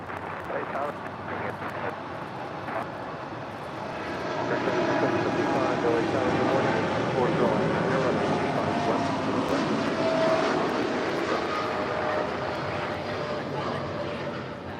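The Queen airliner rolling down runway 25 left at LAX on takeoff for Portland: a steady, distant jet roar that swells after a few seconds and stays loud and broad until the end.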